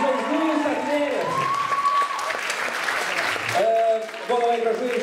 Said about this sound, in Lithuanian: visi aplodismentai yra jums.